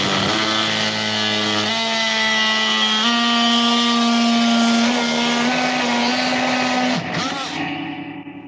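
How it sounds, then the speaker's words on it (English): An oscillating multi-tool runs continuously at close range with a loud, buzzing whine that shifts pitch slightly as it works, then winds down at the end. "Multi-tool has entered the chat."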